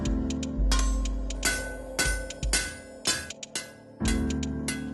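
Sharp metallic hammer blows ring out on a silver sheet being shaped by a silversmith, several strikes at uneven intervals, each with a bright clanging ring that fades before the next hit.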